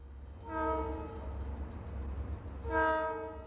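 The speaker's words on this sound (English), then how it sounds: "Two more trains at Hagen on the XWP main line." Union Pacific locomotive on a main line sounds two loud horn blasts, the first short and the second longer, over a low rumble of the passing train.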